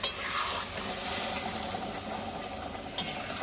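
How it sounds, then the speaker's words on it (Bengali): Hot water goes into a pan of frying potato and bori curry, and a loud steamy hiss and bubbling sizzle rise up close, with a soft clatter near the start and again near the end. "গরম জলটা দিয়ে দিচ্ছি এর মধ্যে।"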